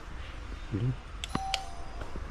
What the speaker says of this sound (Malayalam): നമുക്ക് ആദ്യം വെല്ലടിച്ചു നോക്കട്ടെ